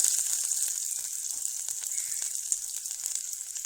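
Onion, green chilies and garlic frying in hot oil give off a bright, steady sizzling hiss, peppered with tiny crackles and pops, close and uninterrupted.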